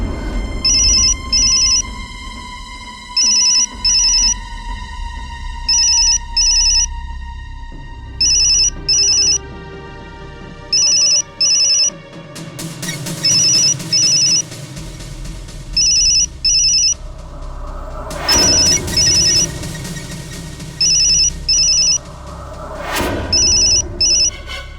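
A telephone rings in repeated bursts of bright electronic trills over a long stretch, loud and close, with a background music score swelling underneath and a couple of sharp dramatic hits.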